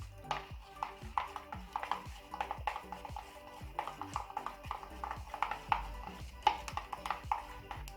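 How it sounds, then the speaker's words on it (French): Slime made from dish soap and baking soda being stirred in a bowl, a steady rhythm of wet, sticky squelches and scraping strokes, close and fairly quiet, with no talking. "Ça commence à faire un petit moment que je mélange."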